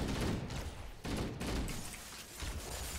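Gunfire in Halo: Combat Evolved Anniversary, a rapid fusillade of game shots and bursts in dense overlapping volleys, loud and continuous.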